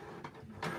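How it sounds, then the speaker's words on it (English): Office printer running in a classroom during a maths lesson, a short mechanical whir with a louder burst near the end, heard in the room without talk. "now someone's put the printer on"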